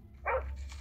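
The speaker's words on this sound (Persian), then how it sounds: "برادر سگ ول میده" A single dog bark or yelp from a video game, short and moderately loud, heard once over a steady low background hum.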